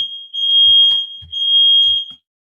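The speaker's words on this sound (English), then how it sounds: "Sorry, the fire alarm went." A smoke-detector style fire alarm sounds loud and close in a home, two long piercing shrill tones with a short break between them, plus faint low knocks underneath and no talking.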